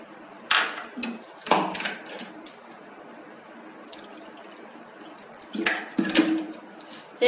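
Water is poured into a bowl of corn flour in a few brief splashing bursts separated by quiet gaps, close and fairly soft.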